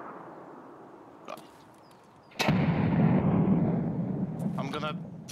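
A grenade explodes in the video game Escape From Tarkov, a loud sharp blast followed by a rumbling tail, with scattered distant gunfire and faint voices around it.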